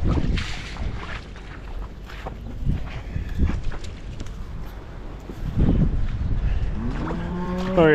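Cows mooing in a barn on a muddy, snowy farm, several loud low calls rising at intervals over wind noise and rustling, the last one long and close.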